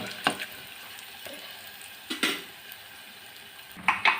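Garlic and tempering spices being stirred in a pan for spinach dal, with a few scattered scrapes and clinks of a spoon against metal over a faint sizzle, quiet between strokes.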